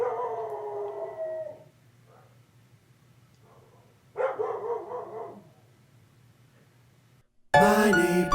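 A neighbor's dog howls in two long, wavering calls separated by a quiet pause, and a louder, harsher outburst arrives right at the end.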